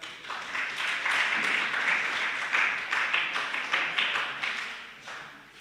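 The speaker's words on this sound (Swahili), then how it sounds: "Mupigie makofi akikuja." Audience applause, a sustained patter of many hands clapping at a steady level through the whole stretch, fading slightly at the end, with little speech.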